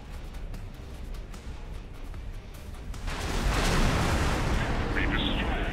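A spaceship explodes in the space combat game X4 Foundations, a deep rumbling blast that swells about halfway through and rolls on loudly to the end over ongoing crackling battle noise.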